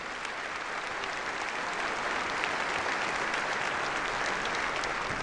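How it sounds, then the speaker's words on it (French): An audience applauds a quartet of conservatory teachers at a 2014 New Year's greetings ceremony, dense steady clapping from a sizeable crowd that fills the whole stretch without letting up. "On peut les applaudir, c'est eux qui vous ont accueillis tout à l'heure."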